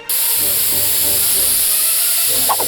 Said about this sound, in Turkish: Bu da ne? Tuvalet spreyi mi?